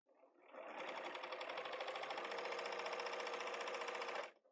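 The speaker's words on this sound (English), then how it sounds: "I'm going to serge off, come back around, put it." A serger sewing machine trims a fabric edge in one continuous, rapid mechanical whir of about four seconds, close and steady, starting and stopping cleanly with no talk.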